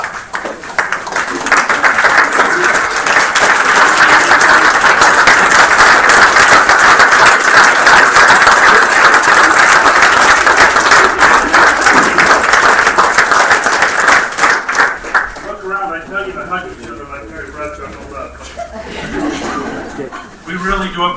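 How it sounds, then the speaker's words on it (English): Attendees at a Weber School District board meeting give sustained, loud applause that builds quickly and holds for about fifteen seconds before fading, after which a voice speaks over scattered remaining claps. "As a board, we want to give you a round of applause."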